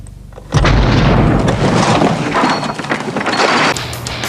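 A loud, sudden car explosion bursts out with a deep boom, then a rumbling, crackling roar that slowly fades.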